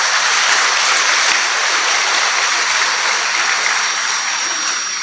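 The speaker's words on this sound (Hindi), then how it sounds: "ताली बजा लो।" An audience at a spiritual gathering in Pune claps continuously, a dense loud roar of hands lasting the whole few seconds without pause or voices.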